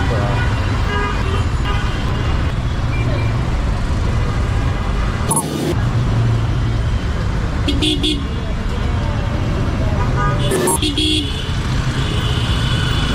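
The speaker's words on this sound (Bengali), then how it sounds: "আর মোটামুটি এখানে তো জ্যাম দেখা যাচ্ছে" Rainy night traffic jam at the Mirpur 1 roundabout, a dense roadway roar of cars and buses with several short horn toots scattered through, while someone talks over it.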